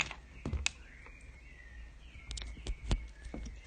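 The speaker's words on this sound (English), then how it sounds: "Bird calls." Faint morning bird calls, a few brief chirps and a thin drawn-out call scattered through a quiet outdoor background with occasional soft clicks and knocks.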